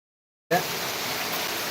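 Heavy rain pours down steadily in Dharmavaram, a dense, continuous hiss that starts abruptly and holds at an even level with no talk over it.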